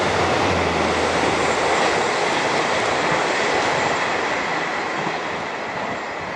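Northbound and southbound trains passing each other on the line, a loud, continuous rushing roar of rolling wheels with faint squeal and clatter, steady throughout and easing slightly toward the end, with no voices.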